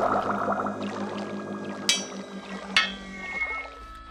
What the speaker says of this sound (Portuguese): Ah, Léo, foi uma garrafa que alguém jogou na água